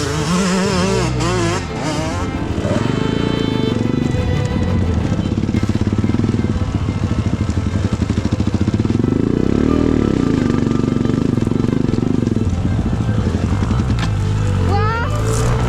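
An enduro motorcycle engine revs and accelerates up close during off-road training, rising and falling through several bursts of throttle, with people talking and calling out over the engine noise.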